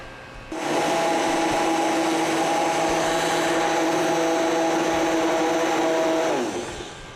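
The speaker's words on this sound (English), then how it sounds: "So we're going to take the immersion blender, and we're going to blend this soup up" An immersion blender runs steadily in a pot of soup for about six seconds, a loud continuous motor whine with a churning, whirring texture that starts abruptly and winds down at the end.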